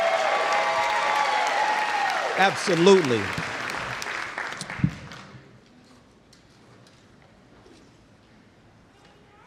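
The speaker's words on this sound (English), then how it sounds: "Let's give Mr. Lattimore a warm round of applause" A room of people applauds for Mr. Lattimore at a Teacher of the Year celebration, loud sustained clapping for about five seconds that then fades to near quiet, with a brief spoken reply and a few thumps.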